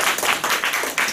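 An audience applauds after a shamisen performance, a dense patter of many hands clapping in soft rhythmic surges, steady and fairly close, with no voices over it.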